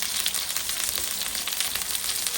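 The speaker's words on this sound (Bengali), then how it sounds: "পেঁয়াজটা ভাজা ভাজা হয়ে গিয়েছে। এখন দিয়ে দেবো পেঁয়াজ বাটা," Onions frying in a pan as ground onion paste goes in, partway through cooking a river pangas fish bhuna; a steady, close, dense sizzle runs throughout with no talking.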